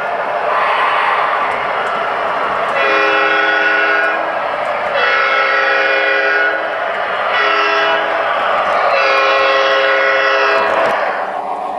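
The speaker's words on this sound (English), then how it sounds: "a yard switcher pushes some freight cars right into it, unknowingly" Railway yard freight train rolling past with a switcher, its steady loud rumble broken by repeated bursts of sustained horn-like tonal blasts, close and continuous throughout.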